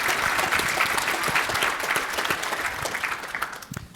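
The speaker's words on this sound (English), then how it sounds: "So please give Todd a round of applause" Steady applause from a conference audience, dense clapping that holds loud for several seconds and then thins slightly toward the end, with no voices over it.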